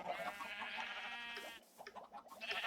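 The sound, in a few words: sheep bleating at a sheep farm in a video game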